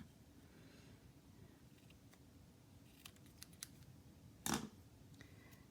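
Scissors trimming a small piece of rice paper for a card, a few faint snips and clicks followed by one sharp close cut, over quiet room background.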